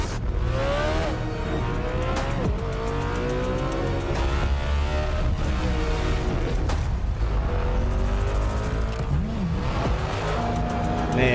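Bugatti Tourbillon sports car engine revving loud and close, rising and falling pitch sweeps as it accelerates, with brief sharp bursts scattered throughout.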